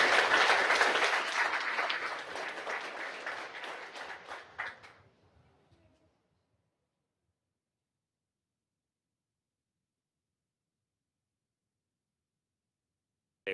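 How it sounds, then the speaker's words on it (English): Applause at a school board meeting for honored high school scholars, a room-filling round of clapping that fades over about five seconds into silence. "one more round of applause for these amazing scholars"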